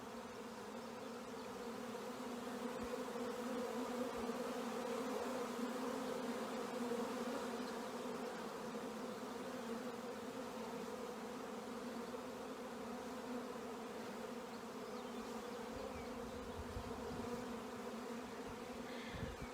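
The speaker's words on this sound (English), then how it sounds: "So they're still just kind of doing their thing, coming and going. So they're just happy bees doing their thing" A honey bee swarm moving in near a hive, a steady low buzzing hum of many bees coming and going, continuous and fairly faint throughout.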